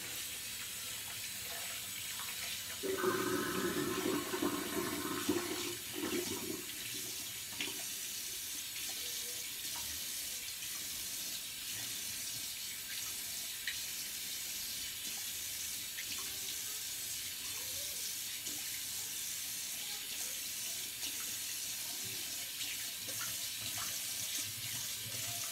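Tap water running steadily into a sink to rinse off after a wet shave with a Muhle R41 razor, a constant close rush with a louder splashing patch early on.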